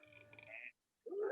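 An audience voices a door creak in imitation, a drawn-out, strained creaking vocal sound that stops abruptly, followed after a brief silence by a louder burst of crowd noise and laughter.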